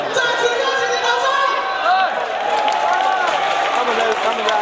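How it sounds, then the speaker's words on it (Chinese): Scattered clapping from a CPBL baseball stadium crowd runs under loud, sustained voices and crowd chatter, the applause staying in the background for the whole stretch. "再次恭喜你，掌声！"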